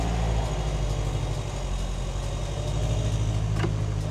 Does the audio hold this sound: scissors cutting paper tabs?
no